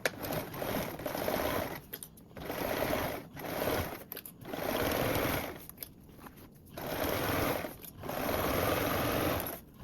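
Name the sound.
sewing machine joining seam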